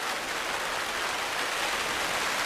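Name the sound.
rain falling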